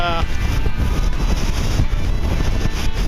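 Gusty wind over 20 knots buffets a sailboat on Lake Michigan off Wilmette during a solo sail, a loud, continuous rushing roar with heavy microphone wind noise and water sounds beneath, without a break.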